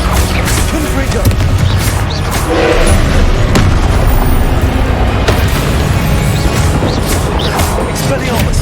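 Confringo spell blasts during a boss trial fight in Hogwarts Legacy, loud booming crashes with sharp impacts over a rumbling, dense game mix, close and continuous.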